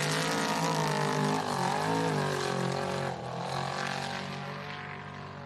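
A helicopter flies around above a powerboat race on a river, with a steady, droning rotor and engine whine that rises and falls slightly as it passes, fairly close and continuous.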